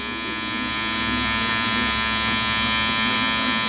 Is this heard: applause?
no